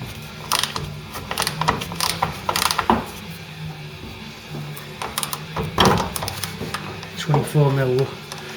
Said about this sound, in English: we're gonna have to jack the chassis up now because these will be under tension